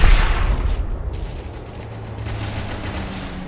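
Explosions and gunfire in a video game battle, with a sharp loud blast at the start followed by a rumbling, crackling combat din that fades and holds steady.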